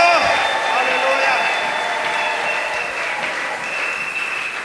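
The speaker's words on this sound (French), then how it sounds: "Est-ce que quelqu'un peut encore acclamer la parole de Dieu?" A church congregation claps in sustained, dense applause that stays loud and steady for nearly five seconds, with a voice faintly audible underneath at the start.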